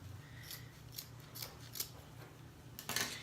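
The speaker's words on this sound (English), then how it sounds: "we're just gonna cut that. Ooh, try not to cut the rest of your burlap." Scissors snip through burlap ribbon while a wreath is being made, giving several quiet, crisp cuts spaced about half a second apart, with a louder final snip at the end.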